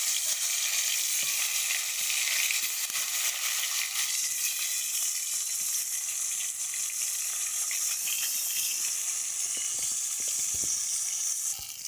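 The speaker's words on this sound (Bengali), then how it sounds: "তেলটা গরম হয়ে গেছে, ওর মধ্যে মাছগুলো সব ছেড়ে দেবো।" Pieces of fish sizzle in hot oil, crackling and spitting in a steady, dense hiss that runs for the whole stretch with only small changes in level and no talk.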